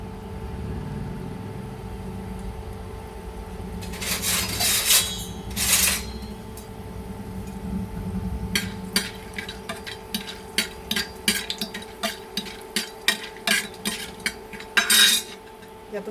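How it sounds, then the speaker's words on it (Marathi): Whole spices go into hot, bubbling oil in a pot for mutton, with a soft sizzle underneath and a run of sharp metallic clinks of a spoon against the vessel, some loud, some rhythmic. "आता तेलाला चांगली उकळी आलेली आहे. त्याच्या सगळ्यात आधी आपण खडे मसाले टाकणार आहोत."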